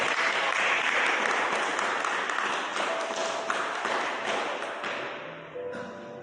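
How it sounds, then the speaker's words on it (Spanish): Church congregation breaks into loud, dense applause, a sustained wash of many hands clapping that slowly thins and softens toward the end, with a faint tone ringing underneath partway through. "Dele un aplauso a Cristo, el Rey de Reyes, el Señor de Señores."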